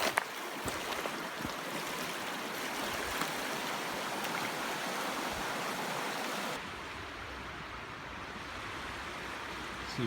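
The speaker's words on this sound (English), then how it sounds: "It's actually a river again." A river flows past a wild woodland camp in a steady, hissing wash of moving water that runs unbroken and fairly faint, with no voices present.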